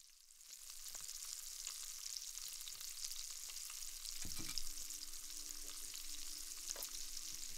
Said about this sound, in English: Fry them up with rice and salad.